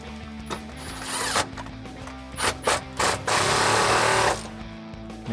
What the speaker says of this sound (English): We're just gonna loosen up and remove this T50 Torx head bolt.